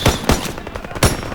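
Rapid bursts of gunfire from a Russian SVT-40 rifle in a World War II video game, several loud overlapping cracks with a heavy burst near the start and another after a short pause.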